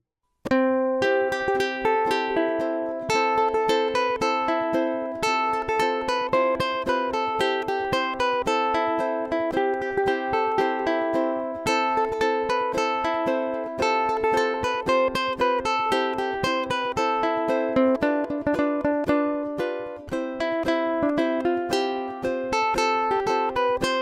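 A ukulele plays the Irish tune Whiskey in the Jar, strumming chords under a plucked melody in a steady, continuous rhythm, close and clear with no voices.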